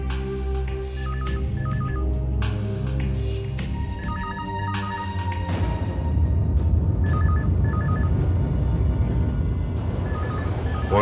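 Telephone ringing in a Hindi crime drama scene, a repeating electronic ring pattern sounding over a loud background music bed, with the rings recurring in short bursts throughout.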